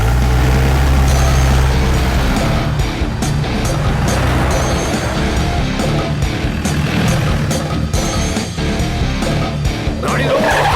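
A car pulls away with loud, continuous engine roar and tyre noise in an action movie scene, the sound sustained and close throughout.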